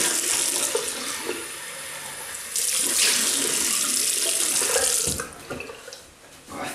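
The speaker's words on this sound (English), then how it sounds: "Rinse off, Paul." Tap water runs steadily into a sink as a man rinses off after a wet shave with a Gillette Superspeed Red Tip razor, the close, loud flow swelling midway and then tapering off, with no talking.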